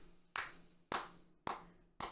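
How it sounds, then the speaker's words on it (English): Four sharp hand claps, evenly spaced about half a second apart, each with a brief room echo in an otherwise quiet space. "That's me clapping."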